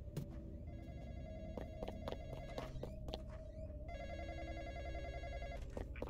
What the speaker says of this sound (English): So we gotta answer the phone again.